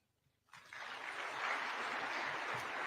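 Audience applause at a State House award ceremony for the President's Award, a dense steady clapping that breaks out after a half-second of quiet and holds at full strength to the end.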